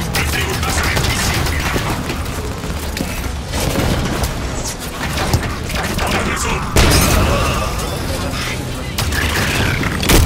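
Gunfire and booming explosions from a Halo 5 match, continuous bursts of shots and heavy impacts throughout, loud and busy, with someone talking in French over the action.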